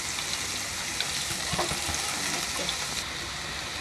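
Vegetables added to oil already holding golden-browned onions sizzle and crackle steadily in a pan, close and fairly quiet, with occasional stirring clinks and no talking.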